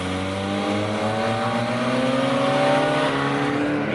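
Mazda Miata car driving up alongside on the way to a car meet, its engine a steady mid-pitched hum with rising and falling harmonic tones as it accelerates, continuous and fairly close, no talking.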